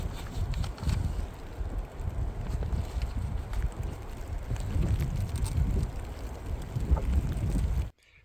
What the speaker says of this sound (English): Gnarly storm just blew in. It's full on blizzard.